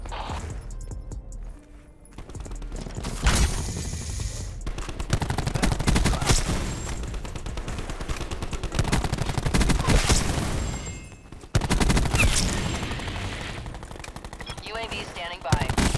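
Heavy gunfire fills a Call of Duty Black Ops 4 multiplayer match. Long stretches of rapid automatic shots and crashes run almost without pause, broken by a couple of short quiet gaps.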